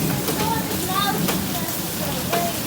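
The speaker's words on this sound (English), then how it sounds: "it's also starting to rain hard, too" Heavy rain mixed with small hail pours down in a dense, steady outdoor hiss, with a voice talking faintly over it.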